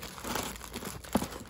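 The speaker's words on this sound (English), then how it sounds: "I'm gonna try shuffling them somehow." Yu-Gi-Oh! trading cards being shuffled by hand, a soft papery crinkling and rustling with a brief sharper snap near the end, close and quiet.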